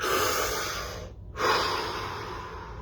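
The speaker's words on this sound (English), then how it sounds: "you might feel an impulse to breathe. Take that breath." A long, steady breath drawn in and let out through the nose, close and loud, with a short pause before the exhale resumes, alone without talk.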